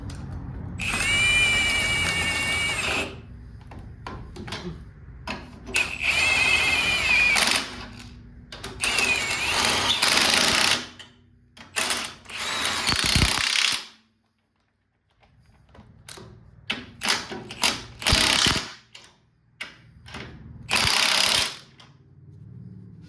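Power tool tightening bolts on the short bed frame of a 1978 Ford F100 truck, several loud whirring and ratcheting bursts separated by pauses, recorded close up in a workshop.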